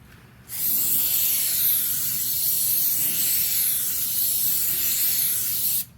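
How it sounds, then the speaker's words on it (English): Tire slick lubricant is sprayed from a can onto a UTV wheel in one steady, close hissing burst lasting about five seconds, starting and stopping abruptly, with no talking. "Going to spray it down with our handy dandy"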